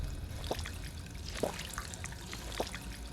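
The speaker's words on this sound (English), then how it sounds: "Now drink from the sink to recover some health." Water running from a sink in Fallout 4, a soft continuous trickle and pour with a few faint splashy drips, quiet and close.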